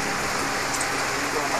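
Heavy rain pours down on a mountaintop, a dense, steady hiss of drops on surfaces that stays loud and continuous with no pauses.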